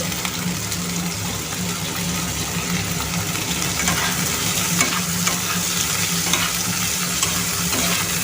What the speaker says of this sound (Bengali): আমার আলুটাও ভাজা হয়ে যাবে আর পেঁয়াজটাও ভাজা হয়ে যাবে